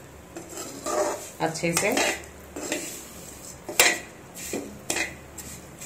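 Vermicelli (sevaiyaan) for Kashmiri kheer roasting in a pan, with a spoon scraping and clattering against the metal in irregular bursts and a soft sizzle beneath; someone speaks briefly.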